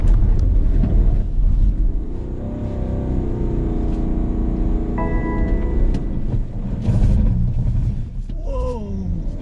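A BMW X3 M Competition (F97) makes a hard launch-control start on a race circuit, its engine droning loud and close with a rising, revving note through the run, buffeted by wind.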